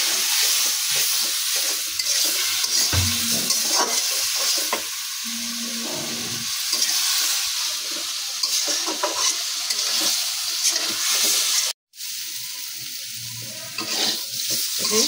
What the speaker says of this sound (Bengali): মরিচের গুঁড়া, ধনিয়া গুঁড়া, একটু ভালো মতো কষাই নিই।